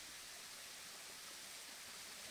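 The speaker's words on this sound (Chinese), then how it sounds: "但这条叫卢吉瀑布或无名瀑布，娟秀的形态，有力击石的气势" Lugard Falls on a Hong Kong hillside trail, water pouring down and striking rocks, gives a faint, steady, unbroken hiss of rushing water throughout, with no other sounds.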